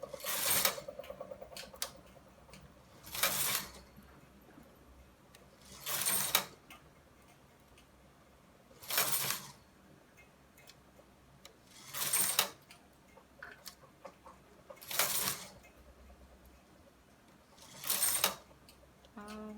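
The carriage of a knitting machine sweeps across the bed while knitting sections of a circle, making loud whooshing rasps about every three seconds, separated by quieter ticks and clicks of handling.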